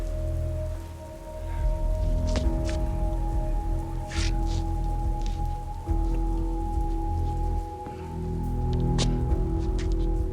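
Steady rain patters in a scene from the 1986 film The Hitcher, with scattered drips and splashes over a low hum and a sustained tone, and no speech.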